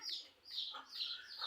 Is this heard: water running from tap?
no